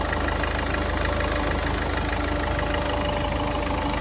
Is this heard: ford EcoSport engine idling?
yes